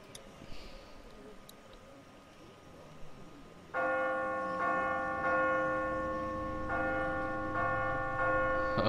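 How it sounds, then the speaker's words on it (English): A large bell tolls in The Walking Dead video game, starting partway through with a loud metallic clang and then ringing repeatedly in a steady rhythm, its long bright overtones sustaining over quieter ambient game sound. "I have to ring the bell."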